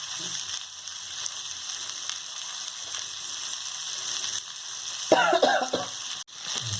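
Sardines fry in a pan with a soft, steady sizzle under a faint background hiss, broken near the end by a brief louder burst of spitting or stirring.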